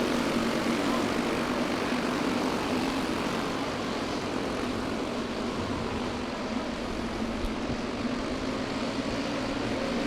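Junior sprint car engines roar around the Deming Speedway track during a feature race, a loud, steady, dense engine drone that holds without a break.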